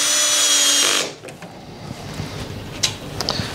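A small power screwdriver whirs steadily for about a second, driving a screw into a PVC window lock part on the hinge side of the frame, followed by faint clicks and handling of the parts.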